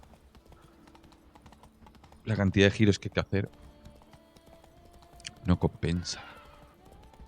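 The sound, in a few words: horse hooves clip-clopping, The Witcher 3 video game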